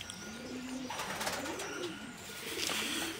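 A small yellow-eyed pigeon hen coos inside a loft, a few soft low rolling coos near the listener, with faint chirps and rustling in the background.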